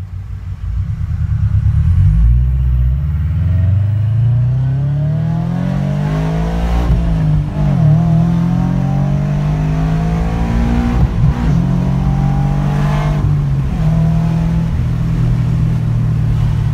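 A Subaru BRZ engine revs up through an acceleration pull, loud and close from inside the car, rising steadily in pitch with a shift or two and a continuous rumbling drone.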